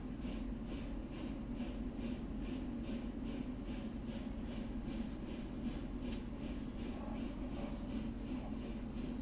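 A heavy freight train in the Railroader game laboring uphill, a low steady rumble with rhythmic chuffing pulses and occasional higher hisses, constant and moderately faint.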